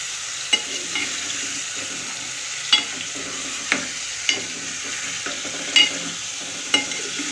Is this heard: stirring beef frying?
yes